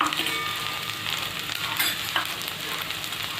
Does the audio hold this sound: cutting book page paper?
no